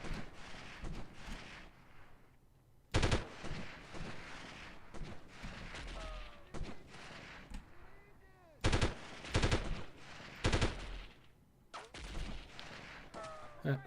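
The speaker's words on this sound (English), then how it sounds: "Snipers, and from the sounds of it, a lot of them." Repeated sharp sniper rifle shots in the 1998 video game Delta Force ring out in irregular bursts, some close and loud, others fainter, over a steady noisy background with occasional game sound effects.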